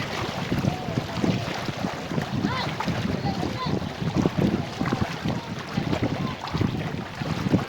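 A boat crossing the Tungabhadra river, with a steady, noisy rush of engine, water and wind buffeting the microphone throughout, and indistinct voices mixed in.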